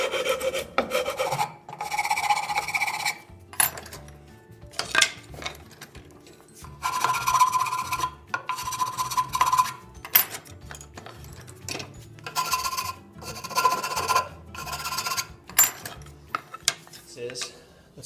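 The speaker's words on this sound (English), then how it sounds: "So I'm going to take each one over to the vise and use a file." A hand file rasps over a wooden tenon clamped in a vise, in repeated bursts of strokes with short pauses and faint knocks between them, close and moderately quiet.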